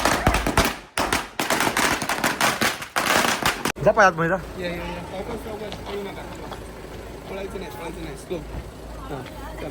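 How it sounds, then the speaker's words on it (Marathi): Firecrackers go off at a wedding homecoming as a rapid, loud string of crackling bangs with brief gaps. The bangs stop abruptly and give way to voices and festive sounds. "हे बघा फटाके फोडायला लागले"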